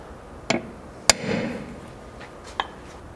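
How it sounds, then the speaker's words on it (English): A hammer hits a center punch on a steel bracket for a Jeep XJ rock slider install: three sharp, separate metallic taps spaced apart, each ringing briefly, with a low rustle between them. "to start with a center punch."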